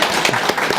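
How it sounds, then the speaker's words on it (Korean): Brief burst of clapping in a church as the congregation applauds a child's answer, a short dense patter close by. "박수 이럴 때 쳐줘야 됩니다"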